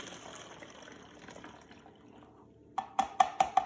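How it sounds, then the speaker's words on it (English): Hydrogen peroxide is poured through a funnel into a bottle: a faint, steady trickle up close, then a quick run of about five louder glugging gurgles near the end. "pouring the hydrogen peroxide into the bottle"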